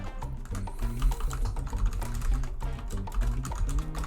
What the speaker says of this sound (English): Get used to the sound of me typing, by the way